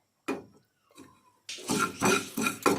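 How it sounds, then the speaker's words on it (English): A spoon scrapes and knocks against a pan while dahi bara spice mix is dry-roasted and stirred, giving a few sparse clinks and then a denser run of rhythmic scraping strokes, close and fairly quiet. "I will stir it continuously for 2 to 3 minutes until it roasts"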